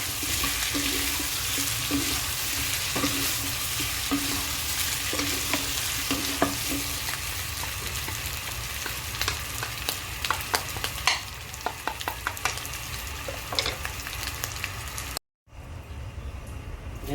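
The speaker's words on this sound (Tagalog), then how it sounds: "Ayan guys, halo-haloin pa rin natin." Pork kaldereta fries in a pan while being stirred, giving a loud, constant sizzle with repeated scraping and clattering of the spoon against the pan. Near the end the sound cuts out briefly, then resumes more quietly.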